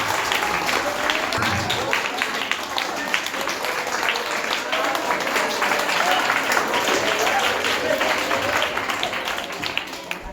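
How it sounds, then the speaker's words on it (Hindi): Audience at a village school event in Navtol Baheri clapping steadily throughout, a dense, sustained wash of applause with voices mixed in. "तालियां।"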